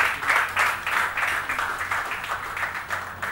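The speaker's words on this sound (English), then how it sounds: "Big round of applause." A crowd claps for an Asian Games shooting medallist called on stage at a felicitation ceremony. The applause is sustained and fairly loud, with the hand claps coming in regular pulsing bursts from start to finish.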